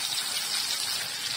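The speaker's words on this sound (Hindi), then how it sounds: "घोल के थोड़ा सा हम पानी भी डाल देंगे।" Water poured into a pan while cooking paneer bhurji, a steady gushing splash that runs without a break for its short length, close and fairly loud with no talking.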